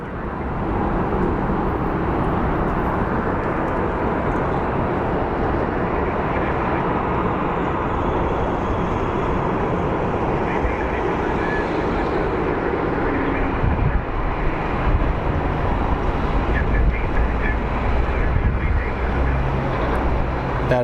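A KC-135 military aircraft arriving at Sky Harbor International Airport in Phoenix, a steady broad jet roar that holds loud and constant throughout, with faint talk beneath it.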